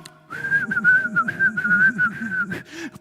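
A person whistles a clear, wavering tune close by, one sustained melodic line running for a couple of seconds before it stops.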